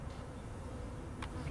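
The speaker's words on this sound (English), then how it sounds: "Based on the size, those are going to be females, worker bees." Honey bees buzz on a hive frame during a hive split, a steady close drone with no voices.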